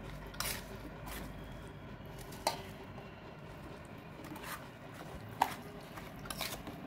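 Raw mango pieces being mixed into pickle spice masala, a soft ongoing stirring and squishing with a few light clinks of a utensil against a bowl, close and quiet.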